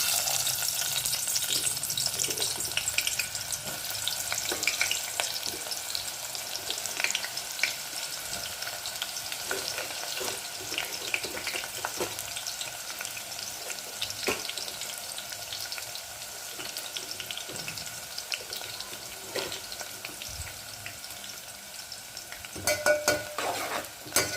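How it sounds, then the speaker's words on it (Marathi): Onions frying in oil for chicken biryani, a constant close sizzle with occasional stirring scrapes and clinks that carries on for over twenty seconds, with nobody talking. "सर्वप्रथम आपण बिर्याणीसाठी कांदे तळून घेऊया।"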